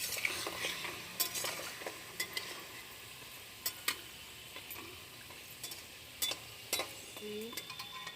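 Pitha rice cakes fry in hot oil with a steady low sizzle. Sharp clinks and scrapes from a utensil stirring and lifting them break through at irregular moments, all at close range and fairly quiet.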